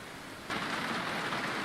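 Rain on the track in a racing video game: after a brief quiet moment a dense, steady hiss of rainfall starts abruptly and continues loud and even to the end.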